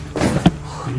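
A door slams in a house with a single sharp, heavy thud amid a rumbling low background, short and fairly loud.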